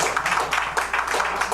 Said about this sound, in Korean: 우리 전무대 박수 한번 보내겠습니다.